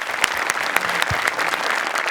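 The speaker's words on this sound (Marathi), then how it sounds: "जोरदार टाळ्या" Hearty studio audience applause on a Marathi comedy show stage, a dense, steady wash of clapping with no pause and no talking over it.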